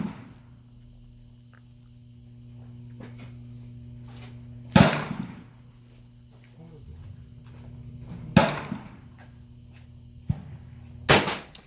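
A 1938 Soviet Mosin-Nagant 91/30 rifle chambered in 7.62x54R fires several sharp, loud shots at irregular intervals, each a sudden crack over a low steady hum, with faint handling clatter between shots.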